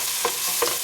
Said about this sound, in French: Je fais revenir mes oignons, tout simplement.